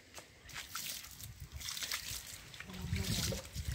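Water is poured onto garden plants in a small home garden, giving a steady trickling and splashing over soil, close by, with people talking over it.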